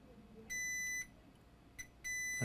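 A multimeter in diode mode beeps while probing a capacitor on an Asus ROG Strix G531G laptop motherboard: two steady half-second tones separated by a short chirp, clear over faint background hiss.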